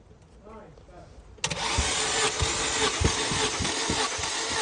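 Daewoo Lanos 1.5 engine cranking on the starter during a compression test, a loud steady whir with rhythmic compression pulses, starting abruptly after a moment of quieter voices in the background.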